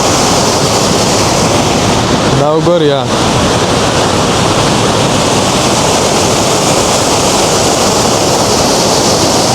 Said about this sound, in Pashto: بیخي د اوبو غږونه ډېر زیات دي